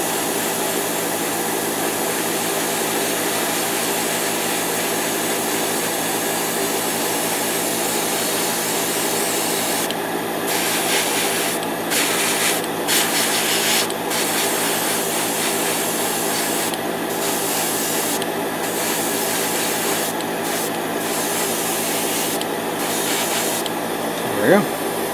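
Spray can hissing as Tamiya metallic red paint is sprayed onto a Gundam model kit foot, a steady broadband spray running almost without break, with short pauses and bursts near the end, under quiet background talk.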